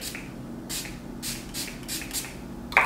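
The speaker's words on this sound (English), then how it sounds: "This is actually the mattifying setting spray" Several short hissing sprays from a bottle of mattifying makeup setting spray, close and fairly soft, spaced about half a second apart, ending with a louder rustle.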